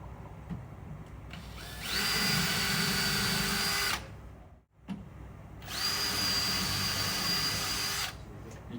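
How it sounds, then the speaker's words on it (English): A power drill with a 4mm bit drilling holes in a media wall panel whirs in two long bursts of a few seconds each, separated by a short pause, loud and close. "take your 4mm drill bit, pop some holes in"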